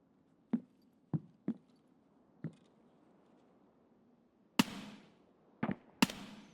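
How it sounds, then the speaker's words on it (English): Distant gunshots in Escape from Tarkov: sharp isolated cracks at irregular intervals over a quiet background, a few faint single shots followed by louder, closer reports near the end. "I can see someone is shooting at me"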